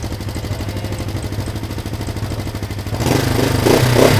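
Engine of a vintage Honda 350 motorcycle running with a steady, buzzing idle that rises into a louder rev near the end, close and unaccompanied.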